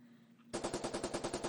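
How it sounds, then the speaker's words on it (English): A rapid burst of gunshots as a sound effect: about a dozen sharp, evenly spaced cracks in quick succession, loud and close, after a brief quiet start. "Rapid gunshots erupted from outside"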